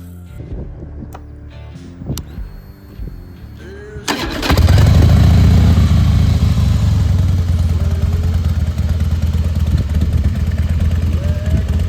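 A 2004 Harley-Davidson Heritage Softail Classic motorcycle is handled with a few faint clicks, then its engine cranks, catches and fires up loudly, settling into a steady, deep, close idle that carries on to the end.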